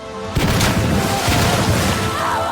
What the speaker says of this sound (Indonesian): Awang bangkit memegang bom dan mendekap Jincheng lalu menceburkan diri ke sungai dan meledak bersamanya.